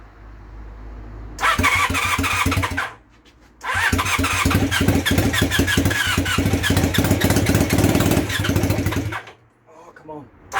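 A project motorcycle engine cranks hard in two long bursts of rapid, rhythmic chugging, loud and close, with a short pause between attempts and a voice briefly heard.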